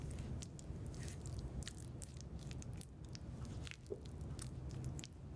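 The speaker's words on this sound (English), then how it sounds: "Cream the butter and salt in a stand mixer bowl using a spatula" Butter and salt being creamed by hand with a spatula in a stand mixer bowl for pie dough, giving a steady, close squishing and smearing texture with soft scraping throughout and no talking.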